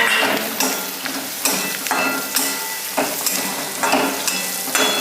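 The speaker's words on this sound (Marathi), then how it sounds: "शेंगदाणे जरा थोडेसे ना कडक भाजून घेऊ" Peanuts roast and get stirred in hot oil in a pan for tomato poha, with steady sizzling broken by repeated scraping stir strokes about once a second, close and alone.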